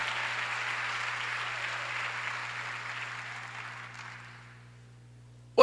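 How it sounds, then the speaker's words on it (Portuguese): A church congregation applauds during a sermon, a broad sustained burst of clapping that slowly fades away over several seconds, ending with a brief sharp knock. "Vamos aplaudir ao Senhor"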